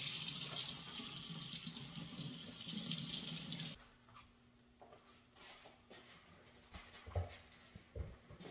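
Tap water runs loud and steady into a sink while raw brisket is rinsed, then stops, leaving quieter handling, drips and soft knocks.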